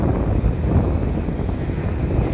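Strong wind buffets a small boat out at sea in cold, choppy water with high waves, a steady loud roar of gusts over the microphone with a low rumble of water beneath, no voices.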